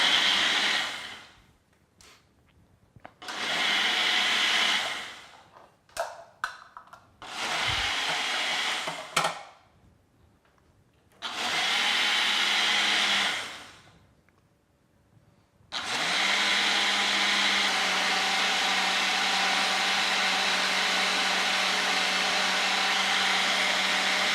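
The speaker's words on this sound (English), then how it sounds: "we'll take this sucker and we will put it on the blender. And we'll give it about 50 seconds for this" A blender whirs through an almond milk smoothie in several loud bursts, short pulses first and then a long steady run to the end, with no talking.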